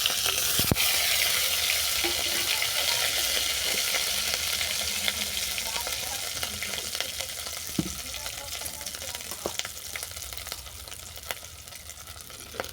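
Spice tempering frying in oil with ginger paste and poppy seed paste, cooking for a pumpkin chokka, makes a soft, steady hiss of sizzling with scattered faint clicks and pops throughout.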